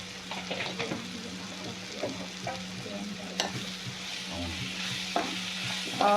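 Prawn masala with Agri masala and red chilli sizzling and frying in a pan, with steady stirring scrapes and clinks over a constant hiss, close and moderately loud.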